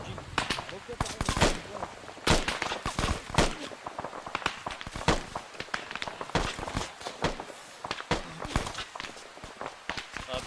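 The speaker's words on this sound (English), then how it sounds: "Be advised, machine gun fire coming in from the top of the hill." Rapid sharp cracks of machine-gun fire in the military video game ARMA 3, bursts and single shots scattered irregularly across the scene at moderate loudness, with voices talking in between.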